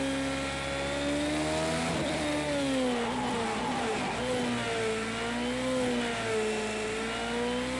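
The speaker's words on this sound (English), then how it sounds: "Plus the engine sounds nice as well." A race car engine in Project Cars 2 at Daytona holds a loud, high-pitched whine that rises and dips steadily as the car is driven flat out, continuous and close with no talking over it.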